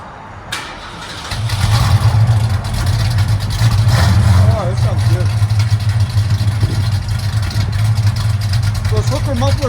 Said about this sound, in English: Those hooker mufflers sound really good.